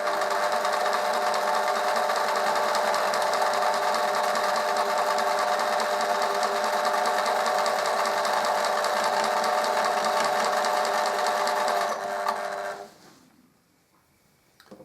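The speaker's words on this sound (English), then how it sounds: "going to use your machine on a straight stitch, probably a number 2 length stitch, to sew the tape in position all the way around." A sewing machine runs a straight stitch, attaching tape around a trouser hem, with a steady, loud, continuous whir for about twelve seconds before slowing and stopping, leaving near silence.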